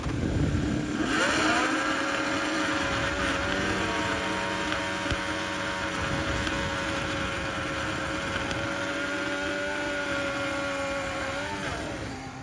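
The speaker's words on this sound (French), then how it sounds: "c'est bel et bien la procédure de départ d'une Formule 1 en 2026" A 2026 Formula 1 car running through its start procedure, a steady high-pitched engine whine and hum held at constant revs for several seconds with mechanical noise, fairly loud and without talk.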